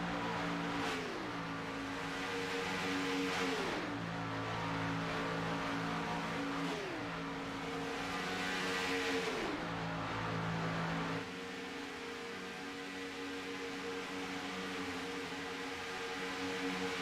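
Race cars roaring down the back stretch at Talladega in a pack of five, engine pitches rising and falling as each car passes, then a long sustained drone fading slightly toward the end.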